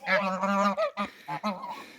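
A goose honks loudly and close by, a long nasal call followed by several shorter honks in quick succession.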